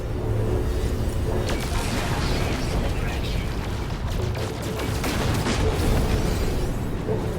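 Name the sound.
top-mounted gun shooting, explosions, from video game No Man's Sky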